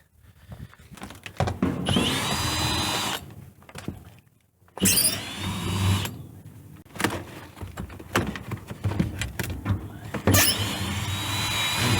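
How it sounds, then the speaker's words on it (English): A screw gun backs screws out of a rotten trailer floor in long whirring bursts separated by pauses, with knocks and handling of wood and tools between the runs, loud and close. "I think it'd be quicker just to get a screw gun and unscrew it real quick"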